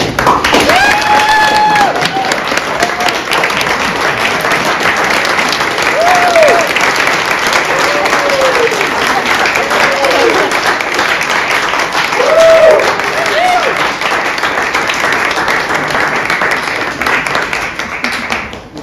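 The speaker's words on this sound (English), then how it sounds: "I'd like everyone to stand up and give Alena a round of applause." A large audience applauds steadily and loudly at a campaign event, dense clapping throughout with some cheering and a few voices calling out briefly.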